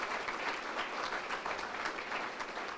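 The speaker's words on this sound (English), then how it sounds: "Please give him a round of applause." Steady, sustained applause from a large crowd at a fundraising gala dinner, a dense wash of clapping that holds evenly throughout.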